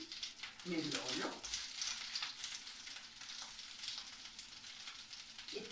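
An ingredient for ribollita hits hot oil and sizzles steadily, with a hissing frying sound that stays loud throughout and some stirring or clatter near the start.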